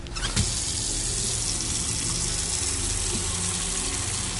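Steady, loud rush of water pouring from a tap into a container during an autopsy lung float test, continuous and close with a brief splash near the start.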